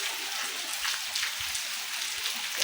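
Steady rain falls in a village, a dense, even hiss of drops hitting the ground, close and continuous with no voices.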